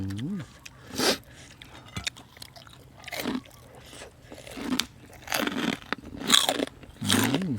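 Someone bites and chews crunchy pork rinds with papaya salad, producing repeated loud crunches at irregular intervals, close to the microphone, with talking in between.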